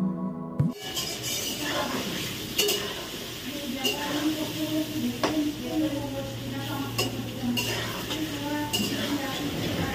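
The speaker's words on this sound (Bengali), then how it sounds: "মাংসের জন্য লাল লাল করে আলু ভেজে নিচ্ছি, মানে নুন হলুদ দিয়ে ভাজা চলছে।" Potatoes fry with salt and turmeric for a meat curry, a steady close sizzle under occasional stirring and utensil clinks, with a voice talking through it and other kitchen noise around.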